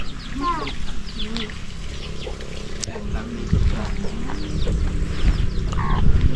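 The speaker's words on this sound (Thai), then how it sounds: "มีไก่" Chickens cluck and call around a Hmong village in rural Laos, with short, scattered bird calls over a noisy outdoor background, while people talk nearby.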